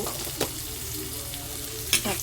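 Tomatoes sizzle in hot oil for a coconut curry, a soft continuous frying hiss broken by two brief sharp bursts of stirring or spattering.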